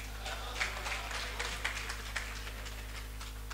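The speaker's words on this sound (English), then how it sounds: "Please clap for that now." Scattered audience clapping at an event, fairly faint and thin, with a handful of sharper individual claps standing out over a steady low hum.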